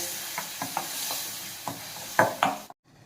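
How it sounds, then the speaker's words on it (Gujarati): A spoon stirs chutney in hot oil tempered with mustard seeds, cumin and asafoetida, giving a run of scraping clinks over a soft sizzle that sharpen toward the end before cutting off. "ચમચા વડે હલાવીએ"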